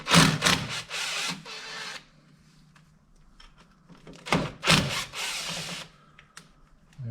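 Air impact gun spinning off rusty Torx 30 brake caliper bolts on a 2010 Vauxhall Corsa SXi 1.2 petrol, two loud rattling bursts of a couple of seconds each separated by quieter clunks and handling noises.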